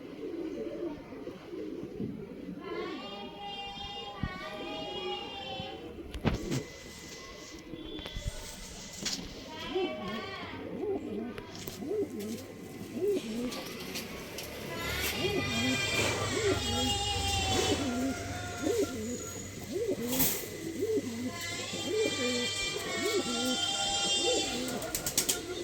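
Pigeons coo repeatedly in a loft, with soft throaty calls rising and falling under ongoing speech and background chatter, sometimes faint and sometimes close.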